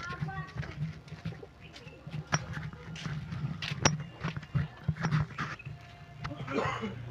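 Soft pigeon cooing murmurs through a busy outdoor scene, with scattered clicks, shuffles and a few sharper knocks around it.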